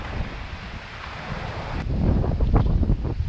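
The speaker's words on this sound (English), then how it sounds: "it's 20-mile-an-hour winds today" Strong 20-mile-an-hour wind buffets the microphone on a kayak out on open water, a steady loud roar that swells and grows gustier partway through, with faint water sloshing underneath.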